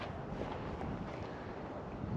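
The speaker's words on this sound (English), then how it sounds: "It's windy today" Steady wind buffets the microphone on an open hike overlooking Springville and the lake, a constant low rumble with no breaks and no voices.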